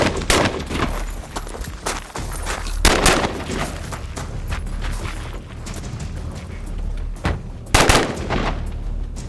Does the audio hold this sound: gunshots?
yes